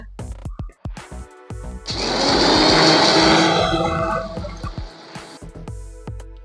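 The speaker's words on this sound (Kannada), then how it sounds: "ಇದನ್ನ ಮಿಕ್ಸಿ ಜಾರ್ಗೆ ಹಾಕೊಂಡು ಮಿಕ್ಸಿಯಲ್ಲಿ ಒಂದ್ಸರಿ ರುಬ್ಕೋಬೇಕಾಗತ್ತೆ" A mixer grinder grinds cumin, coriander and pepper powder in its jar, giving a loud, steady whirring burst of a few seconds with scattered knocks and handling sounds before and after.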